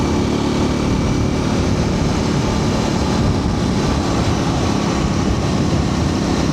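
A 2026 Triumph 400 XC motorcycle accelerates uphill on a winding road, its engine a steady, loud, close roar mixed with wind rush that holds continuously without a break.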